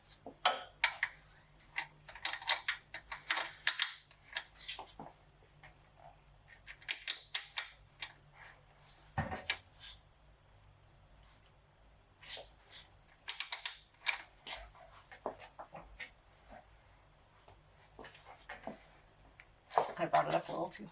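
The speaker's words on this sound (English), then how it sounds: "we're going to hit up these 2 bolts going through the T-bracket, and they're both 19 millimeter, and they require 87 foot-pounds of torque" Wrench work on 19 mm bolts through the T-bracket of a B18C1 B-series transmission during installation, heard as bursts of ratcheting clicks and metallic taps with pauses, fairly faint, with talk in between.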